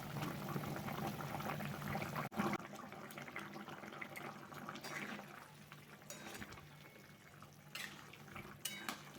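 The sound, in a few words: katla fish curry boiling on high flame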